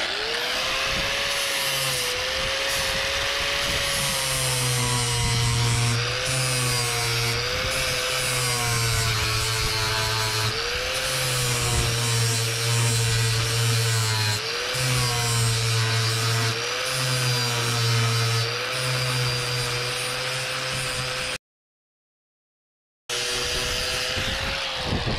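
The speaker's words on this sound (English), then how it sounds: "Just using a 5-inch sanding disc here. So just grind a couple off here" An angle grinder with a 5-inch sanding disc gives a steady, harsh grinding whine, with a low pulsing rub that rises and falls as the disc is pressed on and off a school bus, close by.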